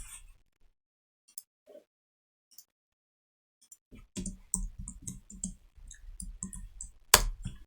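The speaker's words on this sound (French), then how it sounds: "lorsque je clique dessus" Computer mouse clicks at a desk while building a CSS and JS business card, sparse faint clicks at first, then a denser run of sharp clicks and taps ending in one louder click, no speech.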